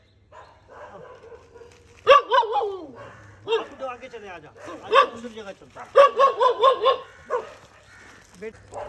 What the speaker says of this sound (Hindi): मेरे को देख के भौंक रहे हैं ये